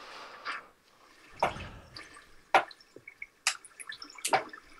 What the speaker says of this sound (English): Bottle in the water.